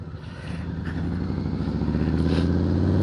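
A 2020 Harley-Davidson Softail Standard motorcycle rumbling steadily under its rider, a deep throbbing engine pulse that swells slightly louder across the stretch, heard close up.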